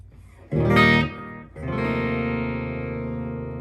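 Electric guitar through an MXR Carbon Copy Deluxe delay pedal: a distorted chord rings out and cuts off, then a second sustained chord follows, trailed by a faint delayed repeat.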